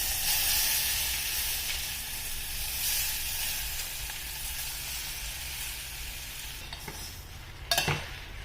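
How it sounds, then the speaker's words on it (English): Chopped plums fry in a teaspoon of sesame oil in a small pot, a steady close sizzle and hiss that fades slightly, with a few brief clinks and stirring sounds near the end. "In a small pot, I add in a teaspoon of sesame oil, which is yellow, and into this I add in the chopped plums."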